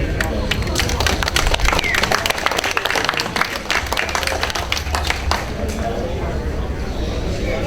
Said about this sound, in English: Is that the reason I got the applause?